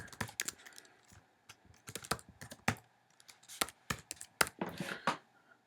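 Username and password typed on a computer keyboard at a login screen: irregular bursts of close, crisp key clicks with short pauses, ending in a quick flurry of taps, no voices.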